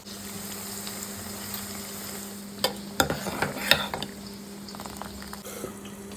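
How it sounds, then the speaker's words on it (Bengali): Okra (bhindi) with spices given a final fry over high heat and stirred in a pan: a low, steady sizzle under a hum, with a burst of clattering scrapes from the stirring in the middle. "হাই হিটে দিয়ে একবার ফাইনাল ফ্রাইটা করে নিতে হবে"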